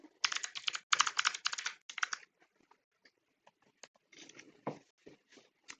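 Typing on a computer keyboard, close and clear, in fast bursts of clattering keystrokes at the start, then sparse single taps and a few short flurries toward the end.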